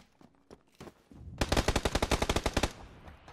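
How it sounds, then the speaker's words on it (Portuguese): Gunfire in PUBG on PS4: a few scattered single shots, then a rapid automatic burst of about fourteen sharp, loud cracks lasting just over a second, with a faint tail afterward. "Tô levando tiro aqui, não sei da onde."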